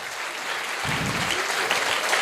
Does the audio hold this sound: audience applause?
yes